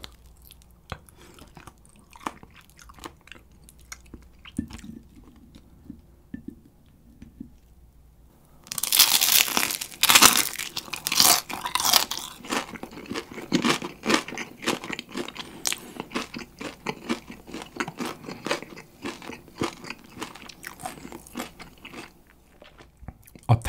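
Close, crisp crunching as someone bites into and chews Kyochon rice-coated fried chicken on the bone, starting quietly then turning into loud, rapid crunches and chewing after about nine seconds, with no talking.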